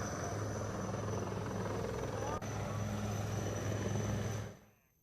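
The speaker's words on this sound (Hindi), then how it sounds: "वायुसेना का हेलीकॉप्टर यहां पहुंचा और लोगों को यहां से रेस्क्यू किया गया" Indian Air Force rescue helicopter at a flood-disaster site near Kainchi Dham, Nainital, its rotor and engine a loud, steady drone that holds for over four seconds before fading out abruptly.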